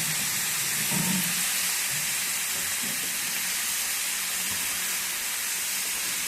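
Washed desi cluster beans (gavari) go into hot masala in a pan, giving a loud, steady sizzling hiss that holds evenly throughout with a few soft low knocks.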